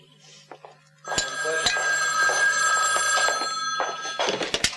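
An old-style telephone bell rings loudly and continuously for several seconds indoors, with a few clinks and light knocks around it and a brief voice before the ringing starts.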